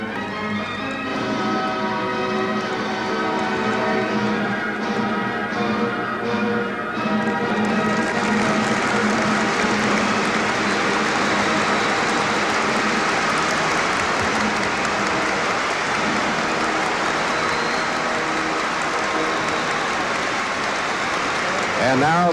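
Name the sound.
audience applauding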